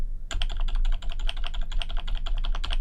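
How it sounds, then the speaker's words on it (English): Cursor keys tapped on a computer keyboard, a rapid, steady run of close, crisp plastic clicks continuing without pause. "Used by clicking these arrows or using the cursor keys on your keyboard."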